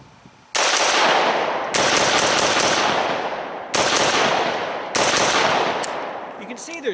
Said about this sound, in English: do some fast fire, give you a sense of how controllable this gun is